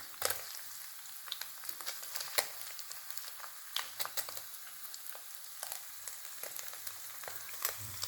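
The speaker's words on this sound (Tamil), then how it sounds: "இப்போ பன்னீரை ஃப்ரை பண்ணி எடுத்துக்கணும்." Paneer cubes frying in oil, a quiet crackling sizzle with many small irregular pops and spits spread across the whole stretch, fairly soft and with no speech.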